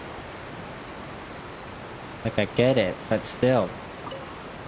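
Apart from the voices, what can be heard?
loud waterfall in Genshin Impact video game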